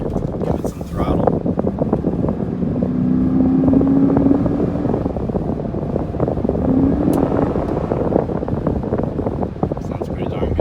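The engine of a Dodge Durango RT fitted with a new intake revs up under throttle, a loud steady droning growl that rises in pitch twice, heard from inside the vehicle with some talking over it.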